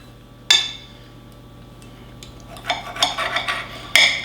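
A Cutco knife cuts through a loaf of cranberry bread packed with fresh cranberries and walnuts: one sharp knock, a quiet pause, then a quick run of short scraping, clicking strokes ending in another firm knock, close by with no talk.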